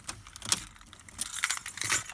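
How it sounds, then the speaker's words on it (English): A bunch of car keys jangles near the ignition of a Rover SD1 as it is switched off, soft metallic clinks in two brief clusters, close and fairly quiet, with no talking. "I'm just going to turn the ignition off."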